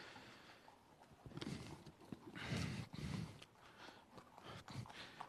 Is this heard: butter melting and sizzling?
no